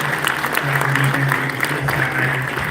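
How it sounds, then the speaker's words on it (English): Steady applause fills the room at a closing ceremony, a dense continuous wash of clapping with a low hum beneath, loud and sustained for nearly three seconds. "So please give yourselves a round of applause."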